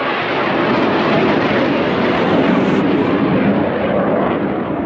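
A fighter jet passes overhead with a loud, continuous broadband roar. The sound holds steady throughout and carries no speech.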